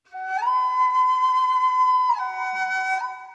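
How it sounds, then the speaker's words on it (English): A breathy, sustained ethnic flute sample phrase, pitched down, holding one long note before stepping down and back up, played alone and clearly. "That's the free ethnic flute phrases"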